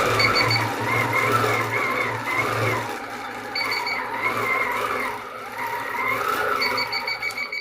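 A longarm quilting machine stitches steadily and sounds a short series of high beeps as it reaches the edge of the quilting area, with a low motor hum running underneath and no talking.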